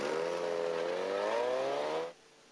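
A supercharged Toyota 4A-GZE engine in an AE86 Sprinter pulls hard and loud, its rising whine climbing steadily for about two seconds before cutting off sharply at the limiter, leaving a quiet background.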